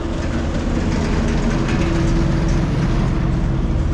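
A loud, steady mechanical rumble of a train near Harare railway station, with a constant low hum, close by and unbroken.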